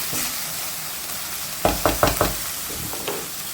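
Turmeric frying in oil in a pan for a potato curry: a low, steady sizzle with a quick run of four spoon-against-pan knocks in the middle and one softer tap near the end.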